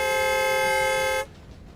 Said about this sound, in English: It even honked the horn,